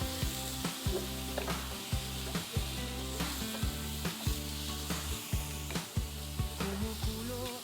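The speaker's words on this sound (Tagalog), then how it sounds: "Igisa ang bawang at sibuyas." Garlic and onion sizzle in a hot pan while being stirred, a steady frying crackle punctuated by rhythmic scraping strokes every half second or so, close and fairly loud.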